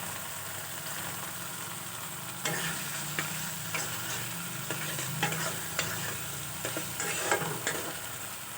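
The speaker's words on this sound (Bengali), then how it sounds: "টমেটোগুলোও দিয়ে দিচ্ছি একসঙ্গে সবগুলো কষিয়ে নেবো" Tomatoes sautéing in a pan for a pointed gourd, potato and paneer curry, giving a continuous sizzle. Repeated spatula scrapes and stirring knocks come in after the first couple of seconds, close and moderately loud.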